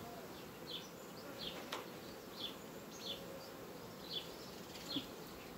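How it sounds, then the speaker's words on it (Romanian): Honey bees buzz around a hive at an apiary during feeding with syrup, a steady faint drone with individual bees passing close every second or so, no talk. "Albinele încă nu ne deranjează, nu e problemă cu furtișoanele."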